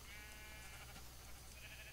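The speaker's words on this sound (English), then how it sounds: "There's so many sheep here." A Minecraft sheep bleats in the video game, a faint, quiet call over a steady low background.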